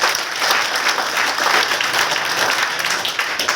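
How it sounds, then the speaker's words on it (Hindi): A seated audience at a multi-level marketing seminar in India bursts into loud, even applause, many hands clapping together in a continuous wash for a few seconds. "सबके लिए जोरदार ताली"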